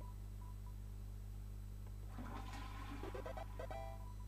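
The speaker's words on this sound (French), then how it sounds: "Vous avez tiré la chasse d'eau." A toilet flushes in the video game Deltarune, a short burst of rushing, gurgling water rising out of a low steady hum and fading after a couple of seconds, with no talk.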